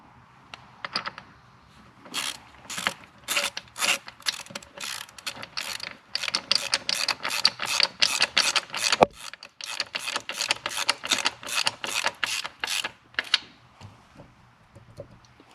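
A hand ratchet tightening a fastener during primary chain adjustment on a Harley-Davidson, bursts of rapid close clicking strokes repeated over and over with short pauses between.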